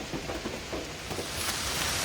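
Rain pours during a storm onto an outdoor cooking spot, a steady hiss of drops on surfaces. It is moderately close and grows slightly heavier toward the end, with no voices.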